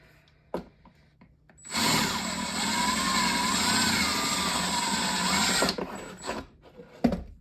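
A power drill bores holes through the side of a plastic container, starting after a few light clicks and handling noises, then a steady high whine lasting about four seconds before stopping abruptly.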